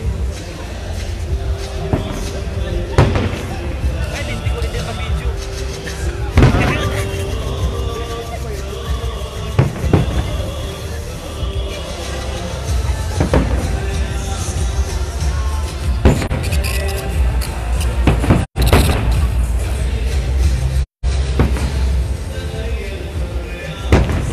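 Fireworks at Riyadh Boulevard World, a series of loud booming bursts spaced a few seconds apart over a continuous crowd rumble, with people talking nearby throughout.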